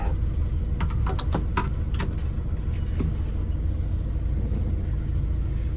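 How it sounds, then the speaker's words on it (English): Inside a bus pulling out of a driveway, a steady low engine rumble drones on, with a few light clicks and rattles near the start. "Leaving out the driveway now in the bus."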